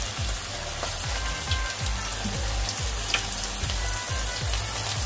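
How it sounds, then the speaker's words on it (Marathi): Manchurian balls deep frying in hot oil, a dense, steady crackling sizzle like rain on a surface, close and continuous, with low rhythmic bubbling pulses beneath and no talking. "तुम्ही बघू शकता आपले जे मंचुरियन बॉल्स आहेत ते चांगल्या प्रकारे फ्राय होत आहेत।"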